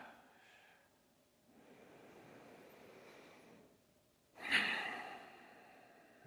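Slow, deep breathing during a laya yoga session: a soft exhale, then a long gentle inhale, followed by a sudden loud, breathy exhale near the end.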